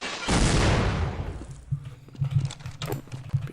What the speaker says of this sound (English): the bouncing grenades do a heck of a lot more damage than the explosions do